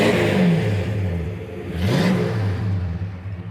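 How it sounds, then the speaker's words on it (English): A 1970 Dodge Coronet Super Bee tribute with a 383 engine, 3-speed automatic and dual exhaust revs up, drops back and climbs again in two swelling pulls, loud and close with no voices. "It's got a 383 underneath the hood, 3-speed automatic transmission, great sounding dual exhaust"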